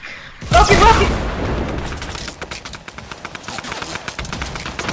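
Rocket explosions in a video game, one sudden loud blast followed by a long crackling, rattling tail, with excited voices shouting over it.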